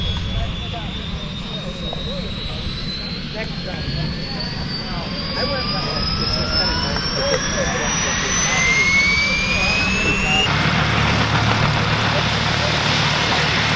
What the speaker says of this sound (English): Starting the helicopter.